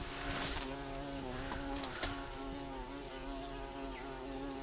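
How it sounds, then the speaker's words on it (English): A bumblebee and a honeybee buzz together in an enclosed space, making a steady, fairly close drone that hums on without pause, with a few faint clicks and knocks near the start. "I've got one bumblebee and one honeybee in here"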